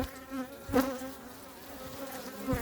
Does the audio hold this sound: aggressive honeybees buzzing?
yes